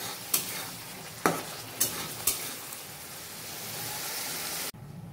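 Fried eggplant is sautéed in a pan with a soft continuous sizzle, punctuated by four sharp scrapes of a spatula early on, before the sound cuts off abruptly near the end.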